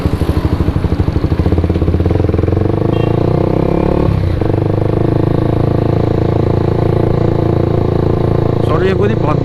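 Kawasaki Ninja 250 single-cylinder motorcycle being ridden, its engine droning loud and close with a steady pulsing note, briefly dipping in pitch midway before picking back up, with some clatter near the end.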